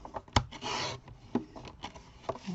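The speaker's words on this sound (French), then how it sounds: "je vais carrément découper avec mon massicot, ça sera plus net" A paper guillotine trimmer slices through A4 card paper for a folded card, a brief close rasping cut framed by sharp clicks and light handling taps of the blade and sheet.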